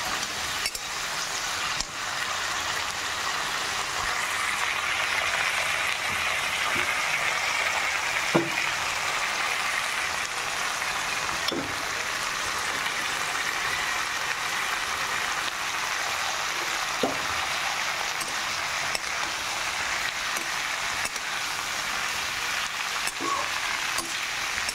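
Onions frying in a pan for a bean curry, a steady close hiss of sizzling oil with occasional stirring clicks, continuous and fairly loud throughout with no talking.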